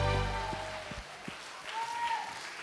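A congregation at a worship gathering applauding together, a dense, even patter of many hands clapping at moderate distance, with a fading musical tone at the start.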